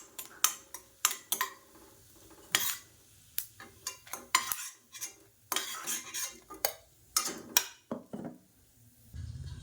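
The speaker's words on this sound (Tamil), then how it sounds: "இதையும் வேறு பிளேட்டுக்கு மாற்றிக்கலாம்." Fried ingredients for a tomato chutney are scooped from a pan onto a plate, with a quiet run of metal spoon scrapes and clinks against cookware, irregular and close, fading to a faint hum at the end.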